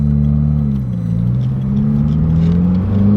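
A Subaru WRX (2015 or later) engine revs hard under turbo boost, a loud, sustained in-car drone with rising and falling engine harmonics throughout, heard from inside the cabin with no talking.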